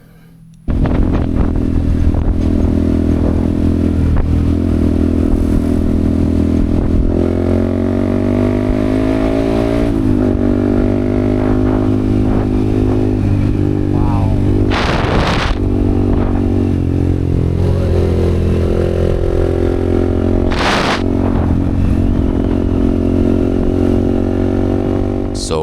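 Yamaha XSR155 motorcycle ridden on an open road between Lombok and Sumbawa: a loud, steady engine drone with shifting revs and heavy wind buffeting throughout, with a couple of brief surges along the way.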